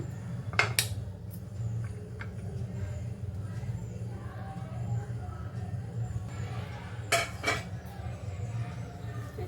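Onion and cabbage koshimbir salad being moved into a serving bowl, with a few sharp clinks of dishes and utensils over a quiet kitchen hum, including two brighter clinks near the start and later on.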